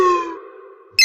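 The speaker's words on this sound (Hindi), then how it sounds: "मुझे तो इतना डर लग रहा है कि पापा के फोन की आवाज भी सुनाई दे रही है।" A phone tone in a children's cartoon: one decaying electronic chime fades out over most of a second, then a brighter, louder tone cuts in sharply near the end.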